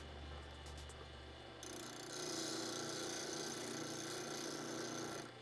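A point tool, a stone-carving chisel, is sharpened on a grinder: a low motor hum gives way after a couple of seconds to a steady, bright grinding hiss that holds to the end.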